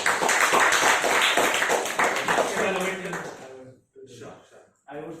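Audience clapping at a speakers' forum meeting, a dense burst of applause from many hands that fades after about four seconds, with a voice speaking over the tail.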